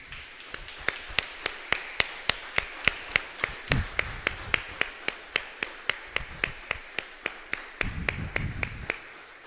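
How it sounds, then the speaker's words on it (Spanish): Congregation at a Spanish-language church service clapping in steady rhythm, a long even run of crisp claps roughly three per second, moderately loud, with low rumbling murmurs between beats. "Me gustaría darle un aplauso al Señor Jesucristo."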